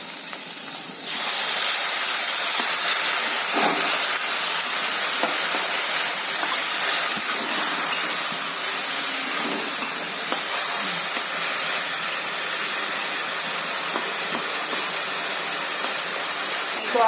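Water hits a hot pan of frying elephant foot yam stalk and potato curry, bursting into a loud, close hiss of steam that starts after a second and keeps rushing steadily to the end.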